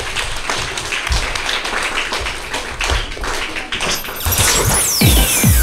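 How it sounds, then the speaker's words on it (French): Schoolchildren in a school radio studio clap for themselves, a loose burst of close, uneven hand claps and taps that swells louder near the end along with some noisy handling sounds. "Merci à tous, vous pouvez vous applaudir."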